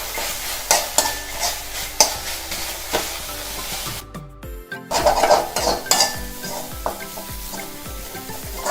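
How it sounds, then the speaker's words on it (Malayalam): Dried fish crackles as it fries in a pan while a utensil stirs and scrapes it, with sharp metallic knocks against the pan. The sizzle stays loud and close, breaks off briefly midway, then resumes, with no speech. "അപ്പോൾ നന്നായിട്ട് നമുക്കിതൊന്ന് ഇളക്കി കൊടുക്കണം."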